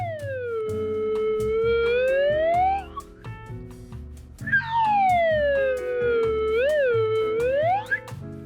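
Slide whistle from a two-pack being played, long pitch sweeps sliding down and up with wobbly bends, two extended phrases separated by a brief low break, loud and close over faint background rumble.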